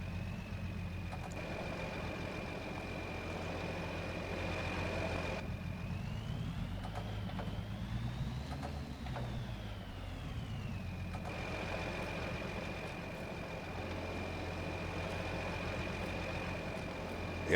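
An Ursus tractor engine in Farming Simulator 22, idling steadily and close with a low, even drone for the whole stretch, pitch rising then falling in the middle as it revs, with a faint whine above.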